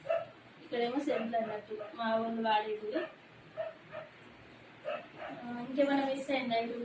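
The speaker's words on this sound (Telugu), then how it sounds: "కుక్కలు కూడా బయట బాగా అరుస్తున్నాయి" Dogs bark and yip outside a home in short bursts, heard faintly behind steady, close talking that runs through most of the stretch.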